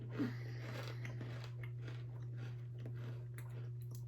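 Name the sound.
crunching on a cigar-shaped Thai snack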